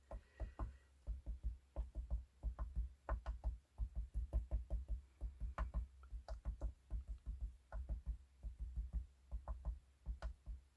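A rubber stamp is pressed onto paper again and again in a steady run of soft, close knocks and taps, some in quick pairs, with no voices.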